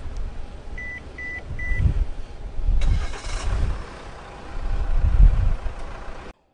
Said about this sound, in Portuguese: você consegue ligar o carro antes, apertando um botão aqui no controle remoto